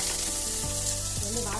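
Cumin, mustard seeds, curry leaves and onion fry in hot oil with a steady, close, dense sizzle and a couple of soft stirring knocks.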